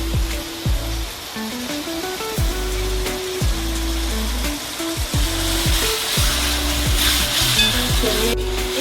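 Ginger garlic paste sizzles steadily in a hot pan for a prawn curry, a close, continuous crackle with brief stirring scrapes while a tonal hum runs underneath.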